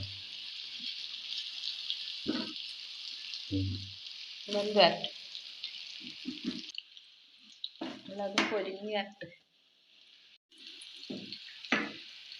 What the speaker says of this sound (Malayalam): വെളിച്ചെണ്ണ ചൂടായിട്ടുണ്ട് ഇതിലേക്ക് നമ്മുടെ മസാല പുരട്ടി കൊടുത്ത കായ ഇട്ട് കൊടുക്കാം